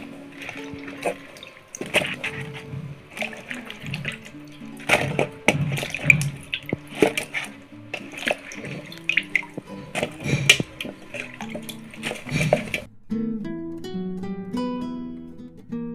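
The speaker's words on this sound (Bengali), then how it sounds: "এবার এই কচুগুলোকে আমি একদম পরিষ্কার পানি দিয়ে ধুয়ে নিব।" Cut taro is washed by hand in clean water, close by, with irregular sloshing splashes and drips. The washing ends in a short tonal melody.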